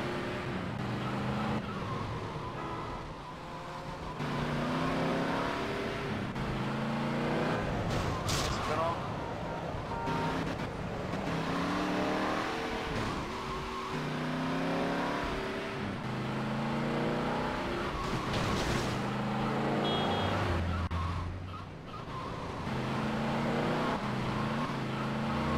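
Engine of a car driven in GTA Liberty City Stories, a continuous revving drone with shifting pitch that runs throughout, alongside game effects and a voice talking over it.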